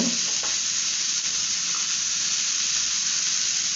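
Mushroom fry sizzling in a pan while being stirred, a steady close hiss of frying with faint clinks, no voices.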